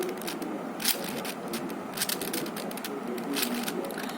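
A 4x4 Rubik's cube is turned quickly in a corner-cutting test, producing a steady run of close, dry plastic clicks and scrapes with no voice.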